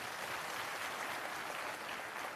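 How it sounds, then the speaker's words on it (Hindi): Loud applause from a crowd at a Jan Suraaj digital wing state-level meeting in Patna, a dense, steady wash of clapping filling the whole stretch with no voices on top. "ऐसे युवाओं की हौसला अफजाई के लिए जोरदार तालियां।"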